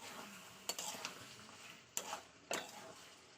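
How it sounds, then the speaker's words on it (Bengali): A utensil stirs green peas into tomatoes in a cooking pan, giving a few faint, sharp metallic clinks spread over a few seconds against a quiet background. "মটরশুঁটি দিয়ে দিলাম দিয়ে আবার একটু নাড়াচাড়া করে দেবো"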